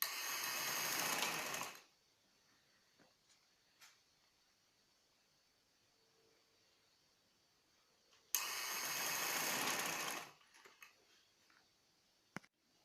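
Sewing machine stitching the collar piping of a cherry-design baby frock, running in two close, even bursts of about two seconds each, separated by quiet with a few small clicks.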